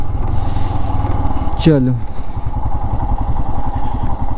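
A Royal Enfield Himalayan motorcycle rides along a mountain road between Lahaul and Spiti valleys, its steady engine drone running throughout, with a brief clattering thump midway and someone talking over the engine.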